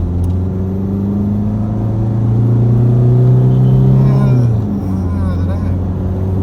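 An old Rover Maestro with suspected fuel problems or air in the fuel system accelerates sluggishly, its engine note rising steadily and loud from inside the car before a gear change drops the pitch, then it pulls on again.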